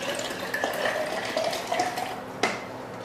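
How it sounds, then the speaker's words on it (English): Water poured from a bottle into a container, a close, continuous gurgling trickle with small splashes and a brief sharper knock near the end. "I'll pour the rest of my bottle of water back in."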